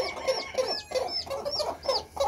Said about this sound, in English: beautiful, beautiful leghorn chicken.